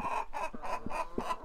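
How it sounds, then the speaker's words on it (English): Farm chicken clucking close by, five evenly spaced throaty clucks in a steady rhythm, fairly faint and alone with no talk. "Let's see if we can get an egg from this chicken."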